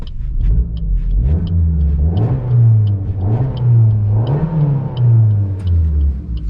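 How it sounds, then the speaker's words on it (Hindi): A Maruti Swift VXi automatic petrol car's engine turns over and settles into a close, steady low rumble, with a few gentle revving swells and faint ticking above it. "सो गाइज कार होगी स्टार्ट और क्रॉलिंग आप सुन ही पा रहे होंगे"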